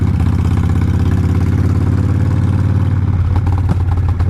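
A Yamaha R6 sport motorcycle engine runs close and loud with a steady, throaty drone. The tone shifts slightly near the end, and no one speaks.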